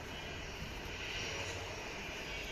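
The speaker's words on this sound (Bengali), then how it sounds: "আমরা একটি ছোট এটিআর মডেলের বিমান দেখছি।" A Novo Air ATR turboprop airliner comes in to land at Dhaka on a flight from Kolkata, a steady, loud engine drone and propeller whine holding evenly throughout, with no voices.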